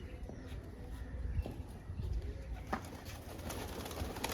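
Pigeons coo close by in soft, repeated throaty calls, with faint background rustle and low outdoor noise.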